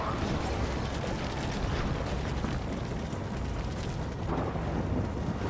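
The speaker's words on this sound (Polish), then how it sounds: "Oho, jeszcze do tego dodatków deszcz." Rain and thunder in the video game Death Stranding form a loud continuous wash of noise with deep rumbling underneath, steady throughout with no speech.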